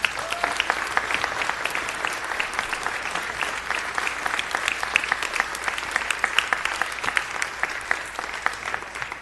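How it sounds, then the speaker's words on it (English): A city council chamber audience breaks into sustained applause, dense, even clapping from many people that holds steady and fairly loud for about nine seconds, with no talking on top. "Let's have another round of applause"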